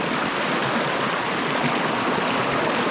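A small trout river flows past in a steady, loud, close rushing wash of water that stays even throughout with no voices.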